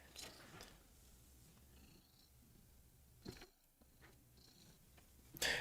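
A domestic cat purrs softly and steadily up close, a quiet low rumble with a few faint rustles and a brief louder noise at the end.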